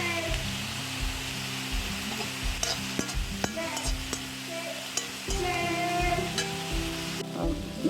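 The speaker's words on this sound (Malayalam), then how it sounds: "നമ്മൾ മുരിങ്ങയില തോരൻ വെക്കാൻ ഉള്ളിയും പച്ചമുളകും കൂടെ അങ്ങോട്ട് നല്ലതുപോലെ വഴറ്റിയെടുക്കണം." Onions and green chillies sauté for a moringa leaf thoran, with a close, steady sizzle under repeated rhythmic scrapes and clacks of a spoon stirring against the pan.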